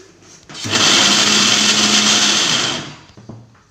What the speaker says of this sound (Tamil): காய்கறிலாம் சீரகம் வெள்ளைப்பூடு தேங்காய் எல்லாம் போட்டு அரைச்சி வச்சுக்கணும்